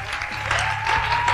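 A studio audience on a TV game show breaks into sustained, dense clapping that stays loud and steady throughout, with no voices on top.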